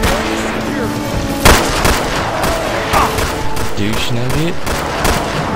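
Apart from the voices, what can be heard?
gunfire in video game Resistance and Liberation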